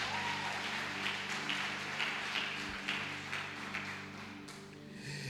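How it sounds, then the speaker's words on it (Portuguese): A church congregation claps its hands together, a dense steady patter running beneath sustained keyboard or organ chords throughout. "aplauda o Senhor então"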